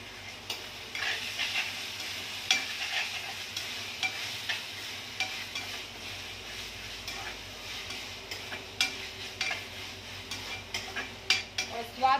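Paneer roll filling being stirred with tomato ketchup in a pan, with steady scraping and clinking of a spoon against the pan over a soft sizzle, fairly quiet and continuous with occasional sharper taps.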